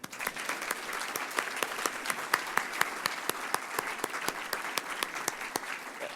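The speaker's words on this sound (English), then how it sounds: "I'm going to pause for a round of applause there" A university audience claps during a presidential address, steady applause with distinct individual hand claps standing out rhythmically over a moderate crowd wash.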